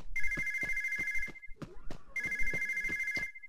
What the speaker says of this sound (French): Oh, le téléphone qui sonne